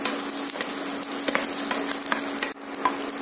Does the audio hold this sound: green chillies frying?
yes